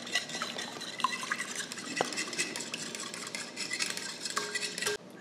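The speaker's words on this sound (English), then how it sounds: "We're gonna whisk this together." Avocado oil being whisked in a bowl, with a steady scraping and clinking stir of the whisk against the bowl continuing close up and alone, with no talk.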